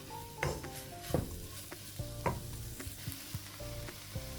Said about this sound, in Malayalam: അതും ചേർത്തിട്ട് ഒരു രണ്ട് മിനിറ്റ് ഒന്ന് ഇളക്കി കൊടുക്കുക